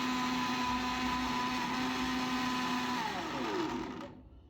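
An electric mixer grinder grinds spices for a singi fish curry with a steady, loud motor whine and rattle that holds for about three seconds, then pitches down and fades as it is switched off.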